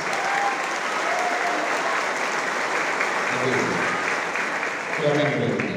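Sustained loud applause from a graduation audience as parents are cheered, dense steady clapping throughout with a few voices and cheers rising near the end.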